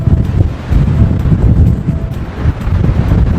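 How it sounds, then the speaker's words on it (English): Strong wind roars and buffets the microphone continuously, a loud low rumble with gusting surges throughout and no voices. "it gets crazy windy"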